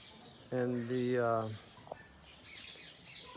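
Parrots and pigeons in tall trees at Radhatila, Vrindavan: a single harmonic squawking call about a second long stands out, followed by faint distant chirps and soft outdoor background.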